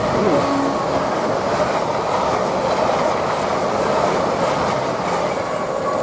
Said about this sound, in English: Now we've got a LNER Zoomer from Edinburgh towards.